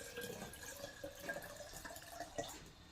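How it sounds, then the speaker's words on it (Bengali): Pond water poured into a mug to prepare an infusoria culture at home, a steady close trickle and splash with small drips that keeps going for the full few seconds without any talking. "এই পুকুরের জল আমি নিয়েছি, তার মানে এতেও অর্ধেক পরিমাণে দিয়ে দেবো।"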